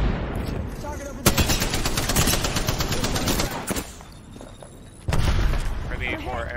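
Rapid automatic gunfire from the video game Apex Legends rattles in loud sustained bursts, pausing briefly before another volley, with voices talking over the shooting.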